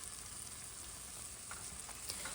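Ground spice paste sizzling in a pot with onions for chicken curry, a faint even sizzle with soft stirring scrapes and small taps, no talk.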